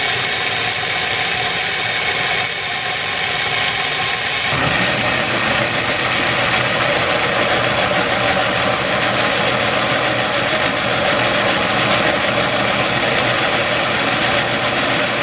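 Restored 1947 Lionel 675 toy locomotive running on a test track, a loud continuous motor drone and rattling hum that shifts slightly after a few seconds and stays steady throughout, with no voices.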